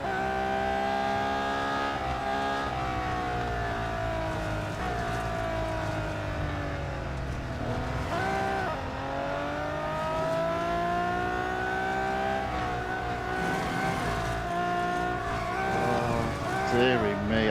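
Race car engine in the Real Racing 3 video game, a continuous high whining drone that rises and dips with gear changes and cornering, steady and loud throughout with a person talking faintly over it.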